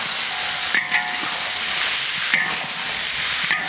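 Star anise, cinnamon, bay leaf, Sichuan pepper and a beef bone stir-frying in a wok, with a continuous sizzle broken by three sharp scraping clacks of the spatula at regular intervals.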